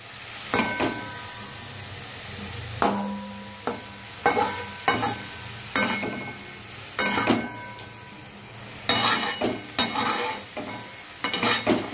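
Mustard greens are stirred in a sizzling pan, with a spoon scraping and clinking in irregular strokes over a constant frying hiss, close and fairly loud.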